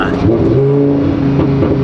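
A brief, loud, deep engine rev from a straight-piped Lamborghini with a rough, throaty exhaust note, close up.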